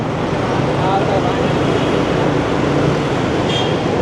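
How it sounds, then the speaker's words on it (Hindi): Steady city traffic and rail noise rumble near the Sabzazar metro station in Multan, a dense continuous roar of vehicles and trains with no clear breaks. "ये मेट्रो स्टेशन है सब्ज़ादार जो लंघते पे"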